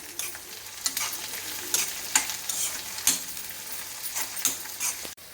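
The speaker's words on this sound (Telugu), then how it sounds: "కరివేపాకు, కొంచెం కొత్తిమీర, కొంచెం ఫ్రై కావాలి ఇవి." Curry leaves and a little coriander fry in hot oil in a pan, giving a steady close sizzle broken by regular scraping stir strokes roughly every second.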